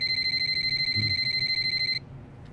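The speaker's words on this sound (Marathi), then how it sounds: "त्याचाच दिसतोय फोन." A phone rings with a bright electronic trill that pulses fast and evenly for about two seconds, loud and near, then stops abruptly.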